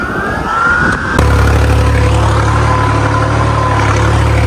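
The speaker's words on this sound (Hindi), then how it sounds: "हॉलैंड न्यू करते हैं चालू और इसको बराबर करने की कोशिश करते हैं" A New Holland tractor engine cranks and catches, then settles into a loud, steady diesel idle with a deep low rumble, heard on a farm field being prepared for sowing.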